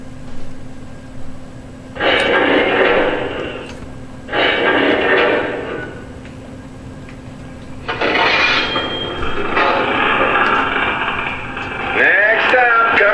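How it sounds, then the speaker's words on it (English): A Lionel Texas Special toy train setup with a station-sounds diner car plays an arrival sound effect: bursts of hissing air-brake noise and rumbling with a steady hum underneath, ending with squealing tones. "we'll hear the sound effect of the train"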